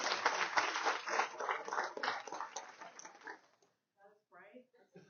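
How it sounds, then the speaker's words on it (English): A college audience at a fall State of the College address claps in a dense, steady round of applause for about three and a half seconds, then it stops and a voice begins speaking. "Let's give it a round of applause right now for Andrea Peaky."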